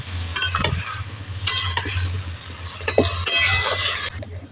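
A little water splashes into vegetables sizzling in a pan for a Bengali chapor ghonto, with a close, lively hiss, stirring scrapes and light clinks of the utensil.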